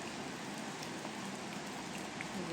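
Heavy rain pours steadily in Annapolis amid street flooding, a dense, even hiss of drops hitting surfaces with no pauses and no talking.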